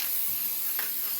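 Clear sealer sprayed over freshly painted craft wood for a lemon jar door hanger, a continuous close, steady aerosol hiss throughout.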